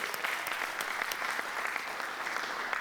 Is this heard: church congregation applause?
yes